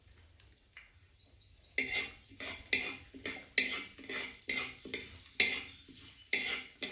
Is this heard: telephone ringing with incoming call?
no